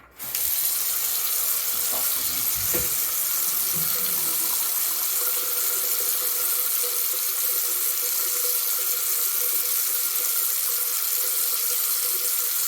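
Water from a tap rushes steadily into a freshly unclogged sink and drains away, a close, continuous, even flow with no break.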